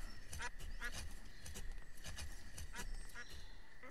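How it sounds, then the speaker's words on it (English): Ducks in the colony-building video game Banished, short quacks repeating every half second or so over a soft ambient game bed, fairly faint and without voices. "I got ducks flying across my pasture and making a lot of noise"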